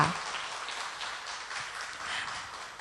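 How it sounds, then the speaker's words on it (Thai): An audience claps for a speaker at a Thai talk about royal barge procession chants. The applause is a steady, moderate patter of many hands, fairly close, with no voices over it. "ขอเสียงปรบมือให้กับวิทยากรของเราอีกค รั้งหนึ่งค่ะ"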